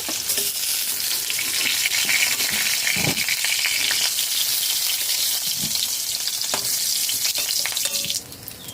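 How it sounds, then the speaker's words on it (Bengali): Food fries in a pan over a low to medium flame with an even, steady sizzle, and an occasional spatula scrape breaks through; no one speaks. "লো টু মিডিয়াম ফ্লেমে তিন মিনিট ভেজে নিয়েছি ভাজা হয়ে গেছে"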